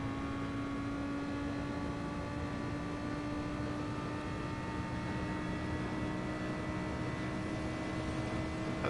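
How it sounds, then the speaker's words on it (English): A steady droning engine hum in GT Sport at the Nordschleife holds a constant tone throughout, with a faint rotor-like flutter over it and no talk. "Helicopter!"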